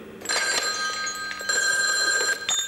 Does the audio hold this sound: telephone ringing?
yes